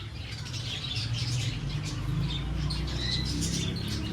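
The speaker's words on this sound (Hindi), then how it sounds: "ये खोल दिए कबूतर" Pigeons released from an opened cage give off chirps and soft fluttering over a constant low background rumble, fairly close and continuous.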